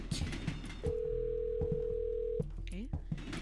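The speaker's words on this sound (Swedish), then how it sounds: "Jag ringer honom" Phone dial tone while calling someone in the Hello Neighbor video game, a steady tone holding for about a second and a half amid game sounds and a person talking.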